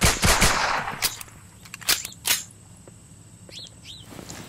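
Gunfire in a video game: a burst of sharp shots at the start, then several more isolated loud cracks spaced a second or so apart, with small chirping effects near the end.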